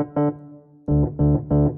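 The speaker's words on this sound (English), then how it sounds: "The action noise you can hear." Pianoteq Rhodes electric piano played as four separate notes or chords, one, a pause, then three in quick succession, each with a clear tonal onset, close and moderately loud with no voices.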